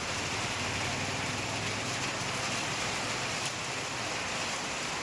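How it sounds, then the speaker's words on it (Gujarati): Heavy rain pours steadily, a dense unbroken hiss of drops hitting surfaces with no pauses. "જોરદાર વરસાદ ચાલુ છે."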